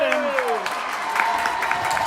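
A basketball crowd at an MSU versus GVSU championship game roars and claps in a dense, sustained wash of noise, with a commentator talking over it.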